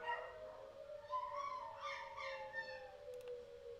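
Several dogs howl together in long, wavering, overlapping tones, fairly faint and continuous with no talking.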